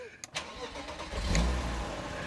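BMW M3 with a six-cylinder engine, original and low-mileage at about 950 km, running close by with a steady smooth hum that swells slightly midway.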